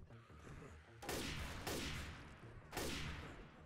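Video game gunfire in Left 4 Dead 2 during the Dark Carnival campaign: a few loud shots or short bursts rise from a busy background din, spaced about a second or more apart, with faint voices underneath.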